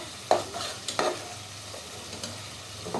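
Taro stems added to prawns frying in a pan, a low, steady sizzle broken by a few distinct scraping and clattering stirs of a utensil, close and fairly quiet, without speech.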